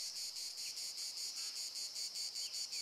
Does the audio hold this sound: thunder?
no